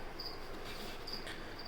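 Pet crickets kept in an enclosure chirp in brief, high, repeated trills that rise over a soft, steady background hiss, quiet and fairly close.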